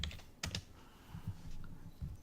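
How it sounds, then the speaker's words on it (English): Keys clack on a computer keyboard in short, irregular bursts of quiet tapping, close by and with no talking. "You typing away at your little computer here?"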